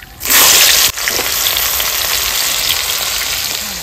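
Onions hit hot oil tempered with bay leaves, chilli, cumin and garam masala. A loud burst of sizzle flares briefly, then settles into a steady, close crackle that carries on to the end, with no talking.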